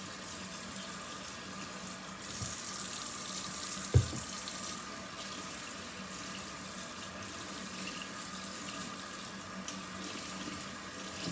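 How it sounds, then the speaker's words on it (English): Water runs steadily from a tap rinsing dirty filters, a soft continuous splashing with one brief knock partway through, fairly quiet and without talk. "See all the dirty water coming off of there?"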